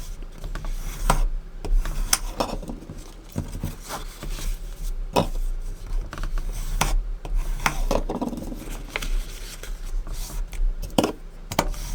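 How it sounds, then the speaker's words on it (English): Paper score lines on a handmade column card being burnished: close, dry rubbing and scraping strokes repeated in an uneven rhythm, with sharper clicks mixed in. "we are going to try to very much burnish. We want them nice and crisp"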